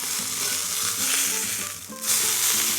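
Smashed burgers with a little salt sizzle and crackle steadily in a hot pan, a close, dense frying hiss with soft clinks and scraping beneath it, no talking.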